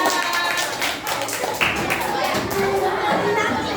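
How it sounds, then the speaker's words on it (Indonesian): Children in a classroom clap their hands together in a burst of scattered, overlapping claps, close and fairly loud, with kids' voices and chatter mixed in. "Oke, tepuk tangan kalian."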